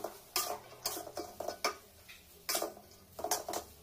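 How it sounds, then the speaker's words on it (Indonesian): Metal utensil scraping and clinking against a pan while stirring fried yellow noodles with seasoning and oil, in quick bursts, a rhythmic stirring pattern with brief pauses, close and fairly loud. "Oke ini kembali kita aduk-aduk ya teman-teman supaya bumbunya tercampur rata"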